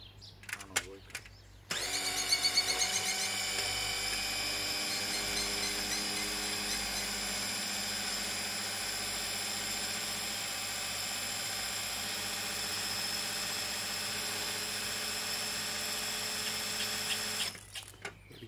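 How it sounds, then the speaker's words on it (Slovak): Small 12-volt cordless drill running steadily in second gear to drive a Parkside drill-attachment water pump, a sustained high whine with stable harmonics lasting about fifteen seconds after a brief start, close and fairly loud. "Použil som túto malú 12-kovú vrtačku."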